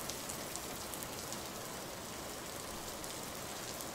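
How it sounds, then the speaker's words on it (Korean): Rain falls steadily as a dense, even hiss with faint scattered drops, soft and continuous and without any voices. "조금씩 빗소리가 작아지더니 이윽고 비가 그쳤어요."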